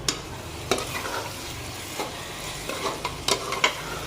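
A spoon scrapes and stirs rice and green peas for matar pulao in a pressure cooker in a run of irregular clinks and scrapes, close up, with a faint sizzle underneath.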